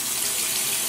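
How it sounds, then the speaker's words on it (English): Warm water runs steadily from a tap onto a shaving brush held over a lather bowl, a close, even gushing stream that continues alone for the whole moment. "So I'm going to put some warm water on here"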